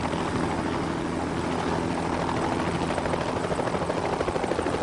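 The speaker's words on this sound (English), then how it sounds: "The dangerous marriage between helicopters and power lines is made to save money and time." A helicopter working near power lines thuds with fast, steady rotor chop over a loud engine whine, staying close and constant throughout.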